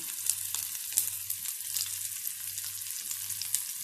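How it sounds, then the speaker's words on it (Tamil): Chopped onion and green chillies sautéing in oil in a pan for a Chettinad chickpea dish, a continuous close crackling sizzle with periodic scrapes and stirs of a spatula and a low hum beneath. "வெங்காயம் பச்சை மிளகாயும் நல்லா வதங்கிடுச்சுங்க"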